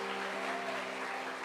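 A church congregation applauds, making a dense, continuous wash of clapping that holds steady over a faint low tonal hum.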